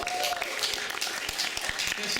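Brief burst of audience applause and clapping at a comedy show, dense and close, with a voice speaking over it near the start.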